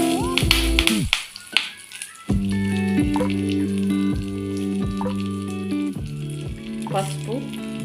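Mustard seeds, cumin, red chillies and curry leaves fry in hot oil with crackling pops and sizzles, close and lively, punctuated by sharp snaps.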